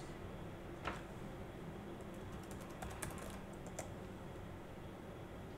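Typing on a laptop keyboard while searching Windows 10 settings, a steady patter of close, quiet key clicks above a constant background hiss.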